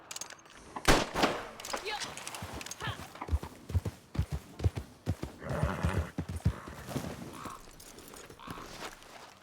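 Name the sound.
horse hooves in video game Red Dead Redemption 2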